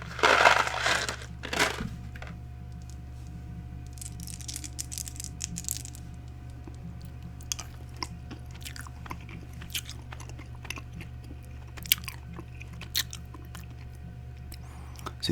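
Close-up chewing of Mike and Ike fruit candies, with a loud crunchy bite at the start followed by a long stretch of soft, sticky mastication and small smacking clicks, with no talking.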